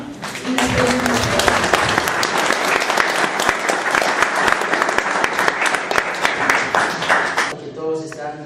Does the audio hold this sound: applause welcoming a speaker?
yes